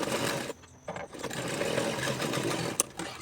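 A sewing machine stitches a pocket onto palazzo pants, a steady close mechanical whirring run that stops briefly early on, then continues evenly, ending with a few light clicks.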